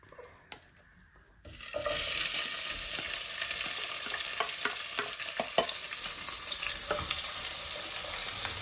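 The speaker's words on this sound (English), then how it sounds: "So we're going to fry these for around 5 minutes." Onions hit a hot pan and fry with a loud, steady sizzle that begins suddenly after a quiet moment, with occasional scrapes and clicks of stirring, close and continuous.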